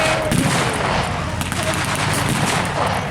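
A rapid, continuous crackle of light machine gun fire and scattered rifle shots fills a WWII battle re-enactment with a Sherman tank at Fortress Wales. The din is dense, loud and sustained throughout.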